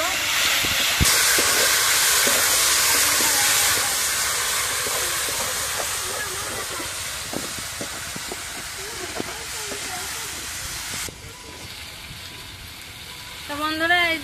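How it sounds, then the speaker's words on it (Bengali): Sweet pumpkin pieces sizzle in hot oil for a Bengali chhyachra curry, a loud continuous frying hiss with scattered crackles that eases slightly before a voice is heard near the end. "এই যে বেটা আমি এই কুমড়োগুলো ভেজে নেবো"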